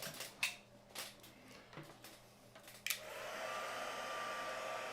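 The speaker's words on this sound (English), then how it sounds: "I'm going to heat this up and dry it." A heat tool blows hot air to dry a toadstool craft piece: a few light handling clicks and taps come first, then a steady, fairly loud airy rush starts about halfway through and holds to the end.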